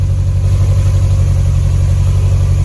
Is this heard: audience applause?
no